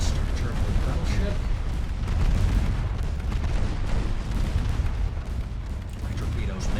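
Torpedo hits explode in the naval warfare game Ultimate Admiral Dreadnoughts, a dense run of deep booms and rumbling blasts that roll on continuously without a pause.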